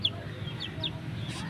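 Chickens and chicks in a backyard cluck softly and fairly close, with several thin, high chick peeps scattered over a low, steady murmur of hens.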